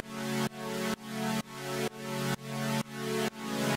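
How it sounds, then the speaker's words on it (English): A basic electronic dance track built in FL Studio with a sidechained pumping effect, each chord swelling back up after a sharp dip roughly twice per second in a steady rhythm, loud and upfront with no voices. "So I was giving it that pumping effect that you hear."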